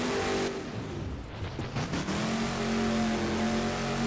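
Monster truck engine in BeamNG.drive revving hard under full throttle, a loud continuous drone with a rising, steady pitch, no talking.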